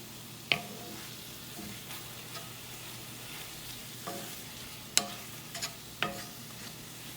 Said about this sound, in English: You can even smush some of these tomatoes.